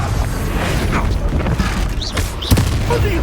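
A Confringo blasting spell explosion in the Hogwarts Legacy video game, heard through a thick clattering combat soundscape, with a sharp loud impact late in the clip and a few whooshing effects before it.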